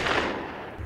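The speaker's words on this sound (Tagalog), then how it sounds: "At putok pa ulit ng baril." A single gunshot sound effect in a Filipino action-horror story set in a sugarcane field: a loud, broad blast that fades away over under a second.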